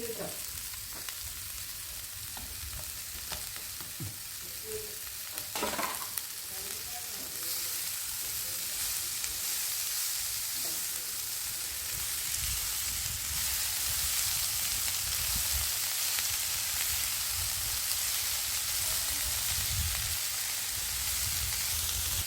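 Chopped palak spinach fries in a pan with a steady, loud hiss and sizzle, broken by a few stirring knocks early on, continuing evenly for over twenty seconds with no speech.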